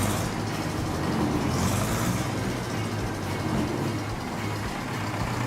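A grey Ferguson tractor engine runs steadily after a cold start on a cold winter day, a loud, continuous low diesel rumble close by with no speech.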